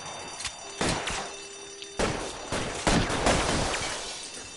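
Gunfire crackles in L.A. Noire: several sharp shots and short bursts spaced irregularly, each with a thudding impact and rattling decay over a steady background.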